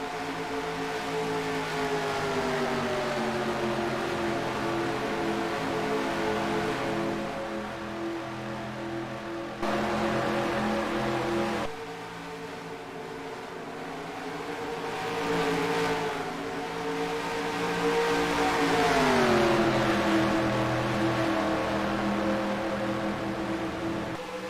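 Race cars in NASCAR Racing 2003 circle Lowe's Speedway, a steady loud engine drone that holds high revs with shifting pitch, dropping briefly and swelling again as cars run on. No one speaks.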